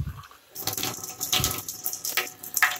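Tap water runs steadily from a faucet into a percolator's reservoir, a close, continuous splashing gush that starts after a brief quiet moment and carries on with a slightly shifting pitch as the vessel fills.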